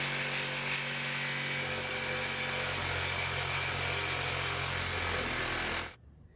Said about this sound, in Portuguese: Com a furadeira e com a tico-tico, eu removo essas 2 partes aqui cônicas